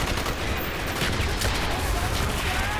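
Rapid automatic gunfire and explosions fill a Call of Duty: Black Ops battle on Xbox 360, a dense, loud, continuous barrage of shots throughout.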